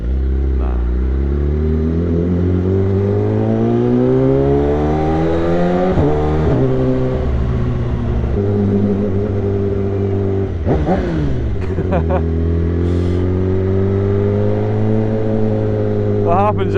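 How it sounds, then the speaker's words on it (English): A BMW S1000RR sport motorcycle engine idles loudly up close, then revs up and down in several swells, with brief mechanical clatter between them. "You get the little kids asking to rev it."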